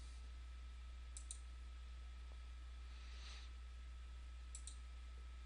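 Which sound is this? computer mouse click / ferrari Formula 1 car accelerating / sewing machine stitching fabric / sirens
computer mouse click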